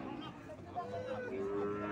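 A young spotted calf gives a low, drawn-out moo close by, rising and holding for about a second over faint background noise.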